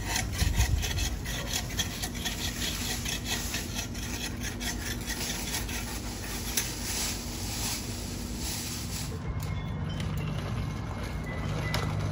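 A hand saw rasps steadily through tree branches in repeated strokes, close by, with faint outdoor background and no talking.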